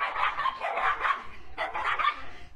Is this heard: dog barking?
yes